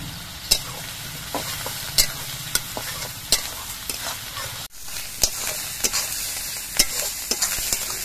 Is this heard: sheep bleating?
no